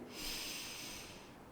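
A slow, deep breath drawn in during a yoga practice, a soft airy hiss that swells and then tapers off over about a second and a half, quiet and close with no talking.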